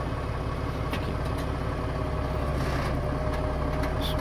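A 1941 Dodge WC13 truck engine idles low and steady as the truck is put in gear and creeps slowly, a continuous close rumble with faint clinks over it.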